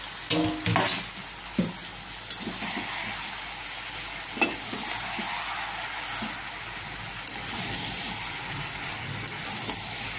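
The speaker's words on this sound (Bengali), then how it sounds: "আমি আলগা করে একবার নেড়ে দিচ্ছি" Mixed vegetable curry (labra) sizzles steadily in a pan while a spoon stirs it loosely, a few sharp scrapes and knocks rising over the constant hiss.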